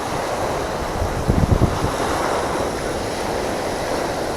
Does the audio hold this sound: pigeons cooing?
no